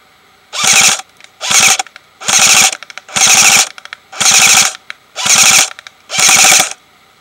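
A Tanio Koba airsoft gun fires BBs on full auto in seven loud, evenly spaced bursts of rapid mechanical clatter, each about half a second long, with quiet gaps between them and no talking.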